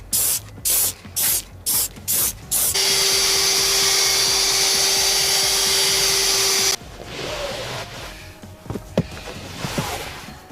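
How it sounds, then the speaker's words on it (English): A drill fitted with a soft brush attachment scrubs damp car seats, running first in several short bursts, then in a steady loud whir, before giving way to quieter brushing and scuffing. "I've bought this soft brush attachment that fits on the end of a drill, so we're going to deep clean these seats."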